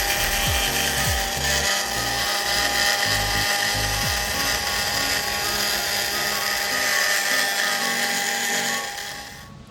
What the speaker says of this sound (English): with that rougher sander roll, we've gone in here and we've actually started shaping this up a little bit